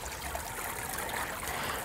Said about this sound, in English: This is the waterfall that I made from scratch.